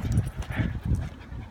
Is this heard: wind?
no